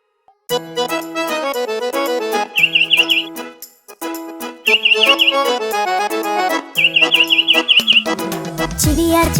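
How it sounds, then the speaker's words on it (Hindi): Bright, rapid bird chirps in a Hindi kids' animated rhyme come in three short bursts, each a quick run of tweets layered over a bouncy musical backing. "चिड़िया चुगने आई दाना, चीची चीची गा कर गाना।"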